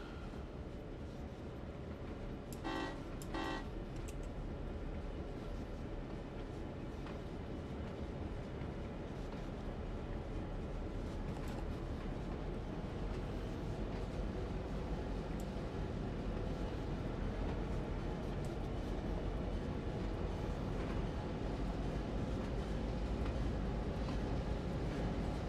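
Coal train in a railroad simulation game rolling slowly into a yard, a steady low rumble of wheels and engine throughout with a brief cluster of clanks or horn-like tones near the start, no talking.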